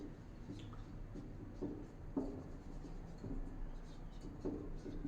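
Pen writing on paper during a Class 9 geometry lesson, soft faint scratching strokes in short bursts against a quiet background, with no talk over them.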